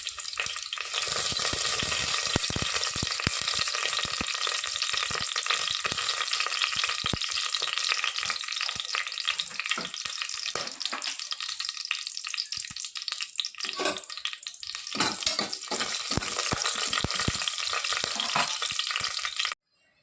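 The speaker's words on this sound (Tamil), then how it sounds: "பட்டை லவங்கம் இஞ்சி இலை எல்லாமே மசாலா பொருள் எல்லாமே போட்டுக்கலாம்" Whole spices (cinnamon, cloves, leaves) and ginger crackle in hot oil for a country-chicken biryani, a steady close sizzle with occasional stirring scrapes and no talking.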